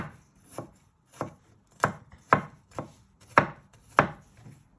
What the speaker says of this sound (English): You want to slice it one way, and then you just want to chop it.